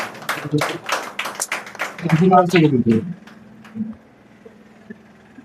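A small audience in a coaching institute room gives a short round of clapping, distinct claps at close range that thin out as a voice speaks over them and then fall quiet.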